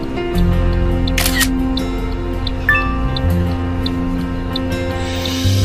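Camera shutter clicks sound twice as brief, crisp snaps over a steady background hum.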